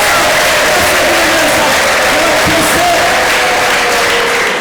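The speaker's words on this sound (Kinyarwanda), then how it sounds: "tumukomere amashyi Yesu" A church congregation claps steadily and loudly throughout, a dense continuous wash of applause with crowd noise and some voices mixed in.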